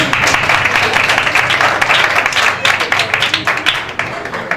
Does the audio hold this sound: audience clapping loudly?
yes